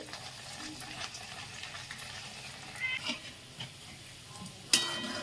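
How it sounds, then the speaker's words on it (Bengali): Flattened vegetable fritters (bora) fry in oil in a wok, a faint, soft sizzle with occasional scraping and clinking from the pan and a sharp metallic knock near the end. "এবার বড়াগুলো ভাজতে দেবো, চ্যাপটা চ্যাপটা করে দেবো।"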